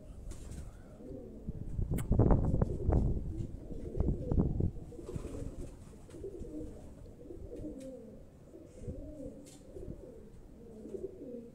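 Pigeons cooing in a loft, soft repeated low coos with a louder burst of flapping and calls early on, quiet throughout and occasionally under a voice.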